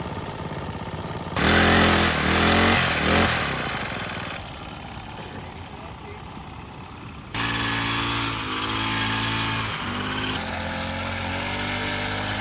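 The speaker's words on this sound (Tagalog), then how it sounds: "grass cutter tayo" Small grass cutter engine running on a farm campsite, a steady droning hum that surges louder in bursts, drops back to a lower idle, then rises again and holds.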